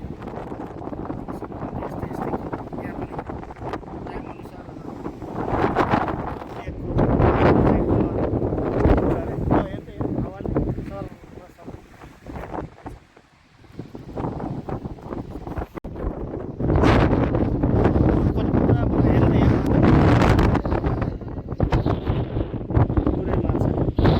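Strong midday wind near Marpha in Nepal buffets the microphone in heavy roaring gusts that rise and fall, briefly easing before blasting again, drowning out everything else.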